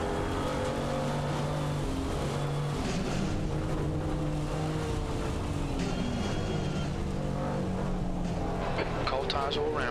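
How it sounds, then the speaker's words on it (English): GT4 race cars lap the Snetterton circuit with steady engine drone and occasional revving as the cars run close together, heard under continuous commentary. "The two GT4s are still pretty close to each other."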